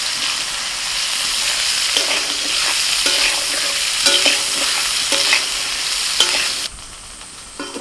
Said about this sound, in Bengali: এবার ওই তেলের মধ্যে ফুলকপিটা ভেজে নেব।